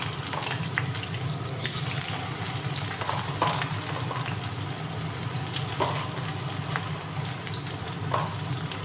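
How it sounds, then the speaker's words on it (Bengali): Onions frying for a Bengali mutton curry on a home stove, a steady loud sizzle running throughout with stirring clinks and a faint running-tap wash in the background, no voices. "এবার ভাজবো পেঁয়াজ।"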